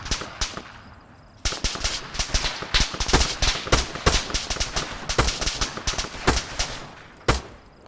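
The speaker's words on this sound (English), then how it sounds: "Give me a chance to shoot my gun." Rapid player gunfire in the military shooter ARMA 3 comes in dense automatic bursts after a brief quiet start. The sharp, loud cracks fire in quick succession for several seconds, then a final single shot rings out near the end.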